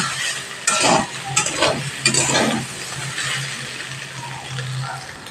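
Boiled, squeezed soybean chunks frying in a pan: a steady close sizzle runs throughout, broken by several bursts of scraping and stirring in the first half.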